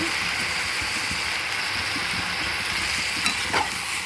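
Mango, eggplant and moong dal curry with salt, chilli powder and turmeric is stirred in an oiled pan, giving a continuous dense sizzle with soft, rhythmic spatula scrapes and a couple of light clicks near the end.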